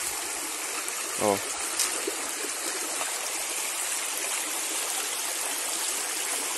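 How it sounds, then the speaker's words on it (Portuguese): A shallow river running low during a drought in the Brazilian sertão gives off a steady, broad rushing hiss throughout, with a brief spoken interjection near the start. "Essa é a água que tem no rio."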